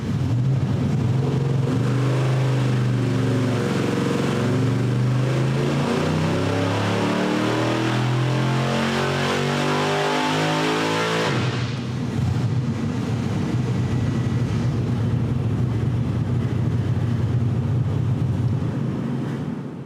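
A loud engine fitted with a race carburetor revs repeatedly, pitch rising and falling in waves, then settles into a rough, steady roar, close by with no talking.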